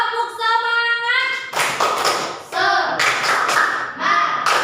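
A classroom group does a rhythmic spirit-clap chant, with bursts of patterned hand claps and taps mixed with loud voices calling out together in short, energetic phrases.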